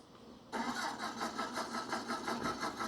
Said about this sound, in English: I was trying to start it up, but it won't work.